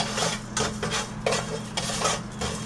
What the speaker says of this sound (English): you're going to roast the cumin seed and the hing